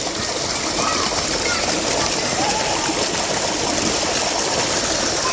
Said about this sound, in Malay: Air sungai. Ditahan kat sini. Dia masuk sini. Terus mengalir.